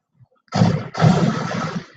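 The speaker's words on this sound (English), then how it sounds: "Sounds like gunshots." Two sharp bursts of gunfire in quick succession, loud and booming with a short decay, heard over an otherwise quiet background.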